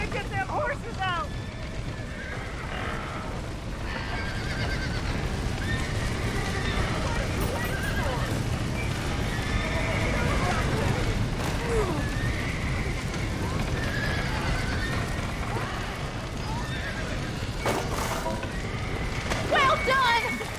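Horses neigh and whinny in a burning barn in the video game Red Dead Redemption, with hooves clopping amid a dense, roaring background; several whinnies rise over the noise throughout.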